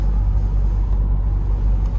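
A convoy of seven or eight vehicles, including a Mercedes GLS, Toyota Fortuner, Ford Endeavour and a Mahindra Scorpio pilot car, rolls past on the Ambala–Rohtak road. A steady, loud low rumble of engines and tyres fills the clip.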